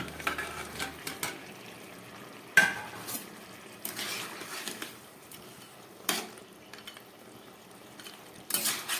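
Quiet simmering of a boiling broth as fish heads are added, with occasional spoon scrapes and clinks against a pot, separate stirring strokes at irregular intervals, close by.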